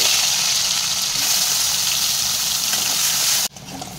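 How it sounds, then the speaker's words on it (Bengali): Eggplant frying in hot oil in a wok gives a loud, dense, continuous sizzle close by, cutting off sharply near the end into a quieter residual hiss. "বেগুনটাও আমার খুব সুন্দর করে ভাজা হয়ে গেছে।"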